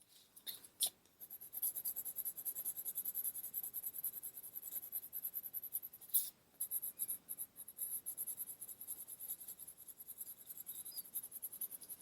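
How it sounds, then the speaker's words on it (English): A pencil pressed hard on paper shades a drawing with a close, fast, rhythmic scratching that continues for several seconds, broken by a couple of brief pauses and sharp taps. "This makes the noise of me really bearing down on the pencil"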